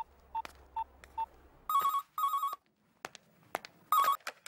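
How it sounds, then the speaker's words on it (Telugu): A telephone in an office rings in repeated bursts of electronic trilling, preceded by short beeps, fairly close and clear against a quiet room. "ఒకసారి పోలీస్ స్టేషన్కి ఫోన్ చేసి వెంకటరావు లైన్లోకి తీసుకో."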